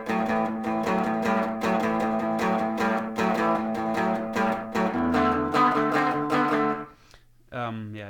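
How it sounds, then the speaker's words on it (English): An electric guitar plays a rockabilly 5/6/7 lick in A, a rapid even run of chugging double-stop figures that ends on a held chord before one last brief strum. "You could also play 5/6/7 actually, which sounds like this."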